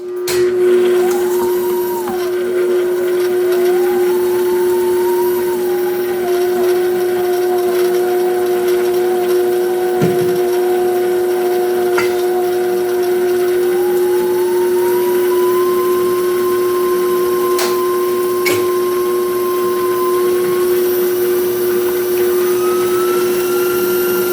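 Stand mixer running steadily as it mixes grain-free pizza dough, a loud continuous motor whine with a pitch that shifts as the load changes; no talking.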